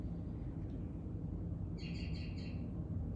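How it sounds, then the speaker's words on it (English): A bird calls late at night, a short series of about four high chirping notes in the distance over a steady low outdoor rumble. "Oh, listen to the birds."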